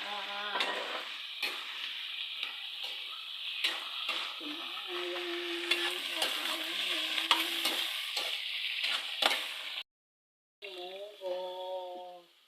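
Lechon frying and being stirred in a pan for monggo, with a steady sizzle and repeated scraping stir strokes up close, and a voice briefly heard over it near the end.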